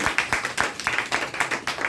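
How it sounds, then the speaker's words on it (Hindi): An audience at a DXN health and wellness testimonial gathering claps for Halim Sheikh, a rhythmic burst of fairly close, loud applause with evenly spaced claps and no talking. "हलीम शेख सर एक बार उनके लिए भी जोरदार ताली"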